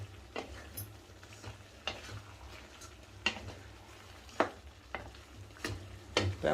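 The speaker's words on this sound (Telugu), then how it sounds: "ఇదంతా బాగా కలుపుకోవాలి." Salted chopped tomatoes for pickle are stirred and mixed, making quiet repeated scraping and squishing strokes at an irregular pace, close and soft, with no talking.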